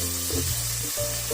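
Ground onion paste frying in half a cup of hot oil, a steady close sizzle under a low background hum, no voices.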